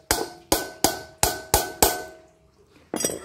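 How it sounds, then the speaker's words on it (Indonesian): Hammer gently tapping a CVT bearing loose, six sharp metallic strikes at an even pace with ringing decay, then a pause and one final tap. "Nah ini sudah keras, kita bisa menggunakan palu. Dipalu pelan-pelan aja"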